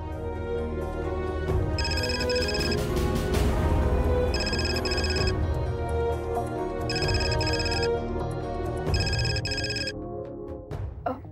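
A telephone rings in four evenly spaced bursts of bright, trilling tones over a continuous background hum, stopping before a short silence.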